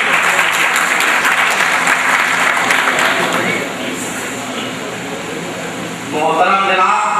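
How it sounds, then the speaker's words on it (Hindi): Loud, sustained clapping from a large audience in a hall fills the room, easing slightly partway through before a voice begins speaking over it near the end. "जोरदार तालियों से इस्तकबाल कीजिए"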